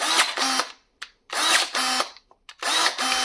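A DeWalt power tool whirs in three loud, close bursts, each lasting about half a second to a second, separated by short silences and a few faint clicks.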